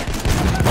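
Machine gun fire in the Battlefield 1 multiplayer video game, a loud, dense, continuous burst of rapid shots with heavy low-end rumble.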